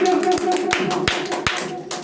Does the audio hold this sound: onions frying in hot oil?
no